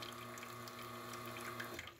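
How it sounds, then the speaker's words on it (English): A La Spaziale S1 espresso machine keeps pushing water after its pump switches off, a steady close rushing flow with a faint low hum running under it throughout. "Pump's off, but it's still pushing a bunch of water."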